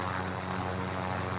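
Helicopter rotor and engine drone from the video game Call of Duty: Modern Warfare, a steady, loud, continuous hum with a low throbbing buzz that fills the whole stretch without breaks.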